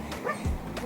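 A man's dog barks and yips by a riverside walk and bikeway, a few short close barks mixed with voices and outdoor background.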